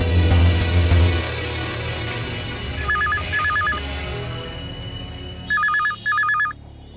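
A telephone rings in two short double-trill bursts, first at middle distance and again louder near the end, over a low rumbling background in a Telugu-dubbed action film scene.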